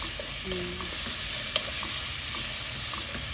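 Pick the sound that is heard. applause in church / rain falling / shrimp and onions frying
shrimp and onions frying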